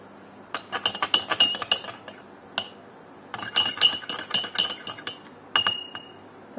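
A spoon stirs clear water mixed with a few drops of betadine in a glass, giving bright, rapid clinks against the glass in three short bursts separated by pauses, close and fairly quiet.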